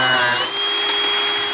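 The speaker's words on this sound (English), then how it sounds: "drilling these spot welds out, and pull this frame assembly out of this bonnet." A power drill bores out spot welds on the steel bonnet brace of an FJ45 Land Cruiser, a loud, close high-pitched whine that drops slightly as the bit bites into the metal, continuous and without talk.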